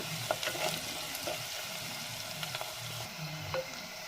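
Onions sautéing in a pan for a Kerala-style mushroom curry, a steady soft sizzle with occasional stirring scrapes and clicks, close and unaccompanied by speech.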